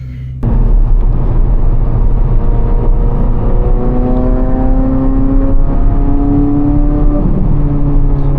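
A Chevrolet Corvette C8 Z06 with the Z07 package pulls away on an early morning drive, its engine loud and close, climbing through rising gear pulls with a steady throaty roar.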